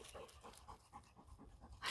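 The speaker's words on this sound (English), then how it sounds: "There go the dogs." Several dogs on a sheep homestead pant rapidly and faintly in a quick, rhythmic series of breaths at a moderate distance.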